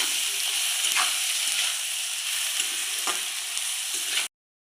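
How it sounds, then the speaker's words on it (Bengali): A spice masala of coriander, cumin, chilli and turmeric powder sautés in oil with a continuous bright sizzle, punctuated by regular scraping strokes of a spatula stirring the pan, close and steady, cutting off abruptly at the end. "1 চামচ হলুদের গুঁড়ো দিয়ে ভালোভাবে কষিয়ে নেব মশলাটাকে আমি"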